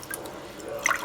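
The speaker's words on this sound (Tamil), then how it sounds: "கஞ்சி வைக்கிறதுக்காக ஒரு 3 டம்ளர் தண்ணி ஊற்றிக்குவோம்" Water from a tumbler poured into a cooking pot for black urad dal porridge, a soft steady trickle with splashy drips swelling toward the end, close and fairly quiet.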